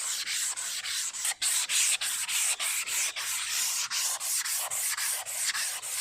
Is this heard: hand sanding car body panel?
yes